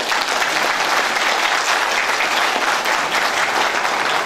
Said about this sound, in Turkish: Nuri Çalışkan Başkanım'a bir alkış istiyorum.